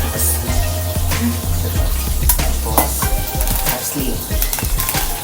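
Burger patty frying in a pan, steady sizzle with frequent clinks and scrapes of a utensil stirring and pressing against the pan, close and busy throughout.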